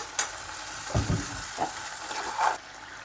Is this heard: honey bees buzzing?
no